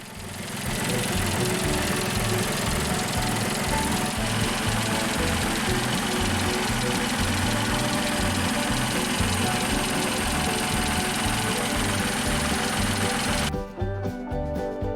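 Tractor engine running steadily after a tune-up with a repaired cylinder now firing and a fixed head gasket, a close, continuous throbbing idle that holds for most of the span before cutting off abruptly near the end.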